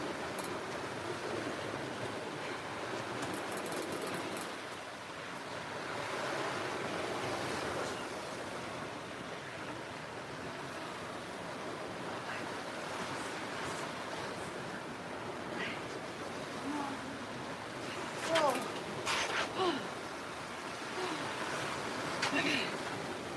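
Ocean waves washing onto a beach during a morning walk, a steady soft surf wash with gusts of wind across the microphone, fairly quiet and continuous throughout.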